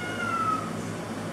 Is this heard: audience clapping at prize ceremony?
no